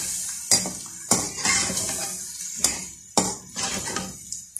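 A spoon stirs tomatoes and green chillies into chicken in a metal pot for chekan yakhni pulao, with several distinct scraping clanks against the pot sides and soft sizzling in between.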